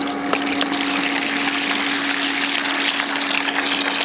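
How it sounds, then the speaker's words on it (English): A sand filter pool pump on backflush runs with a constant tonal hum while dirty water gushes steadily into a bucket. The flow is loud and close and carries on without a break. "So let's put this on back flush and let's flush all this dirty water initially into a bucket"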